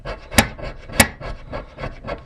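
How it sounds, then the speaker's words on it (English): Fatwood is scraped into fine shavings and powder with rhythmic, close rasping strokes, two of them sharper and louder than the rest, with no talking. "rub that against the Fatwood to create the little shavings here."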